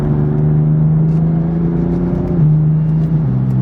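A BMW M4 with a dual-clutch transmission drives along, heard from the cabin as a loud, steady engine drone that drops in pitch partway through as a gear shifts.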